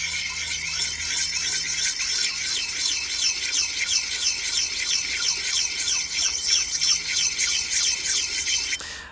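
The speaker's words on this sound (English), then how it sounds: "working in a circular sharpening motion" A curved bevel-edged tool rubbed in circular strokes on a sharpening stone, giving a steady, close, repeated rasping scrape with a rhythmic swirl pattern that runs unbroken for about nine seconds with no talk.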